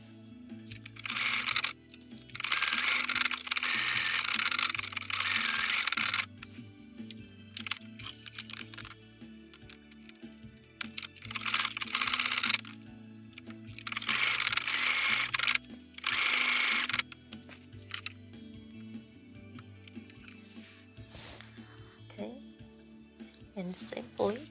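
A sewing machine stitches fabric in several loud, fast-whirring bursts of a few seconds each, close up, with quieter pauses between runs and some speech in the background.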